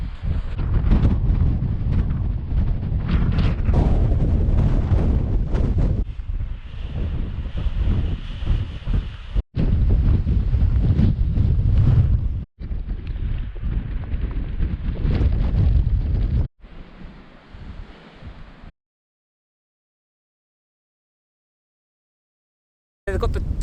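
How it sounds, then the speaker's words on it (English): Strong gusts batter the microphone at a freezing wild camp near Christianbury Crags, loud roaring bursts with abrupt breaks, then a quieter stretch and near silence before the wind returns. "I was hoping the wind was going to dip by now, but it's still flipping and blowing"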